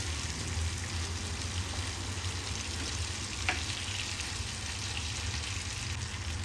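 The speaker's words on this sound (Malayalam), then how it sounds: "ഗ്യാസൊന്ന് കുറച്ച് വെച്ചിട്ട് നമുക്ക് ഫിഷൊന്ന് ഫ്രൈ ചെയ്തെടുക്കാം" Pieces of shark fish fry in hot oil in a pan over a lowered gas flame, giving a steady, close, continuous sizzle with no voices.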